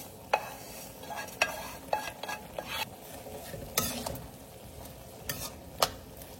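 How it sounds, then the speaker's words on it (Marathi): Roasted wheat vermicelli goes into a pot of boiling water for upma, with a bubbling, sizzling bed and a series of sharp clinks and scrapes spaced a second or so apart. "पाण्याला उकळी आलेली आहे आणि त्याच्यामध्ये ह्या आपण भाजून घेतलेल्या शेवया सगळ्या घालते"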